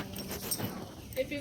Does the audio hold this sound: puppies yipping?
yes